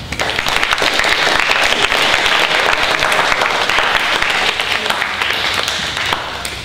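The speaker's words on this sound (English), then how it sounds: "Please give your candidates a warm round of applause." A school audience at a 2014 MSJHS student-government election debate breaks into loud, sustained applause for the candidates, dense clapping filling the room for several seconds before tapering slightly.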